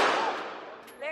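A single loud gunshot cracks at a gun range and fades into a ringing, decaying tail, with a faint voice or noise picking up near the end.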